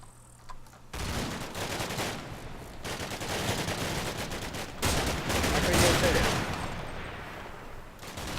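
Dense gunfire in the Combat Mission: Black Sea war game, sustained volleys and machine-gun bursts rattling continuously after a brief quiet start, loud and close, with a faint voice at the very beginning.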